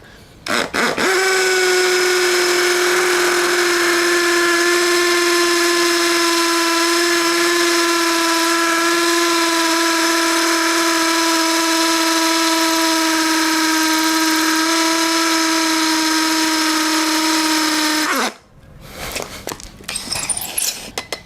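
A DEWALT DCD100 cordless impact drill whines at a steady high pitch for about seventeen seconds without pause, then stops abruptly, followed by faint handling noise.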